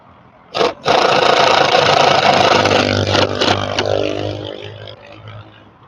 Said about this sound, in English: Supermoto.